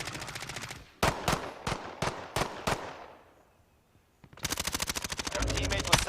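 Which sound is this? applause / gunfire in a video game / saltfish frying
gunfire in a video game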